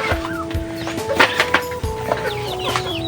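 Chickens and ducks on a small farm clucking and calling over one another, with several overlapping bird voices and a steady tonal hum underneath, fairly close.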